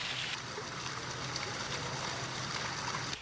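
A waterfall pours into the Cathedral in the Desert, a sandstone canyon chamber on Lake Powell, making a steady, loud, continuous rushing hiss that fills the space without pause, with no voices over it.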